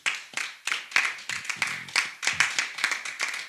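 A church congregation clapping during a French-language sermon, with steady rhythmic handclaps from a group at close range.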